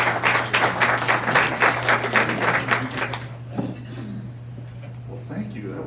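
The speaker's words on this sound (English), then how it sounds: "That was a roaring bit of applause there for me." An audience at a Rotary Club of Des Moines meeting applauds with dense, loud clapping that lasts about three seconds, then fades into quieter room noise.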